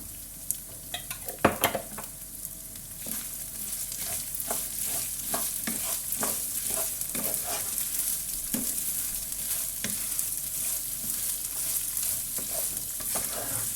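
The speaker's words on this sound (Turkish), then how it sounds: "İyice kavuruyorum." Rice being toasted in a pan with salt added, stirred steadily so a continuous dry sizzle runs throughout, broken by repeated scraping strokes of the spoon against the pan, close and moderately loud, with no talking.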